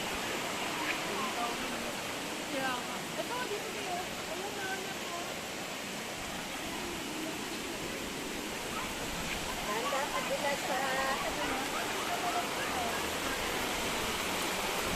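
Water rushing down from the mountain, a constant broad roar of falling water with faint voices in the background.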